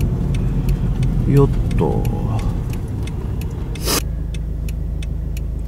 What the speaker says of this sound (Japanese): ハンクラがつながってると同時に回転を上げて発信っていう形なんですけれども